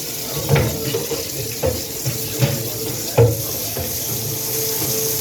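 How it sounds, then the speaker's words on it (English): A pot is washed in a kitchen sink under running tap water, with a steady stream of water and several clunks and scrubbing knocks recurring through it. "I'm gonna just take the time to wash this pot now, this pan."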